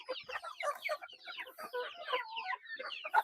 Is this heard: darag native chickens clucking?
yes